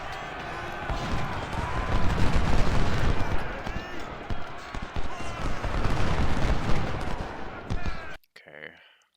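Cannon and musket fire crackle and boom in Ultimate General: Civil War at Malvern Hill, dense overlapping volleys with rolling artillery thumps that persist for several seconds, then cut away abruptly.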